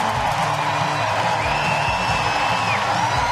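Hockey arena crowd at a PWHL playoff game cheering for the Ottawa Charge, a steady roar filling the rink, loud and sustained with no clear peaks.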